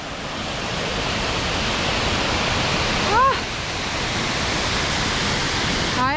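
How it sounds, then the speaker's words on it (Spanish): A waterfall in Chilean Patagonia roars steadily, a dense broadband rush of falling water filling the whole clip, with a brief chirp of a bird midway. "¡Qué pedazo de cascada!"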